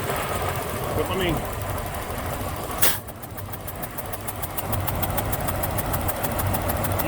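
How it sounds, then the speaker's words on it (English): An engine turns over with compression escaping from an open spark plug hole, giving a steady, close rhythmic chuffing and pulsing under a mechanical drone, broken by one sharp burst near the three-second mark. "You hear the compression coming out of that."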